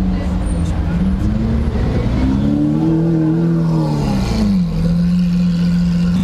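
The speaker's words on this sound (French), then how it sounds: "Cet Aventador fait un bruit de fou." A Lamborghini Aventador roars past at the Monaco Grand Prix, its loud engine note rising and falling as it goes by close, with people talking over the steady street noise.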